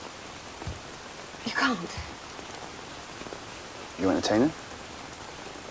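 Steady rain falls throughout a wet day in rural England, a soft continuous hiss under two short bursts of nearby talk.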